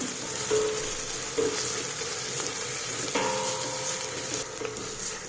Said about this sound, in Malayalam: ഉള്ളി ഏകദേശം ഒരു ബ്രൗൺ നിറമായി തുടങ്ങുന്നത് വരെ നമ്മളിത് വഴറ്റിയെടുക്കണം.